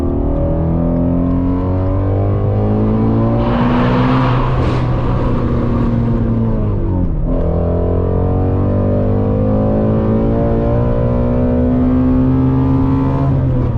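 A Ford Mustang GT350 V8 revs loudly and close up, its rising and falling engine tones holding steady, dipping briefly, then climbing again over roughly fourteen seconds with no talk.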